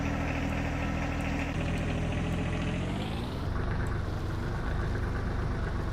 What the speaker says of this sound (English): The engine sounds are straight from the real deal. They are exactly the same as the real-life 1025R.